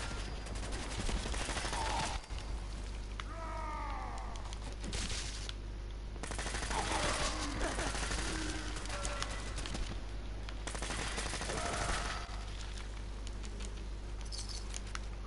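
Rapid bursts of gunfire in the video game Fallout 4, loud and fairly steady across the clip with brief pauses between volleys, alongside game effects and no talking.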